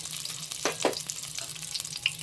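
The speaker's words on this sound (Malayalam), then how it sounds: "ആവശ്യത്തിന് നെയ്യ് ചേർത്ത് ഇനി അതിലോട്ട് നമ്മുടെ തേങ്ങാക്കൊത്ത് വറുത്തെടുക്കാം" Coconut pieces sizzle and crackle as they fry in ghee for jackfruit payasam, with a couple of brief scraping stirs near the start.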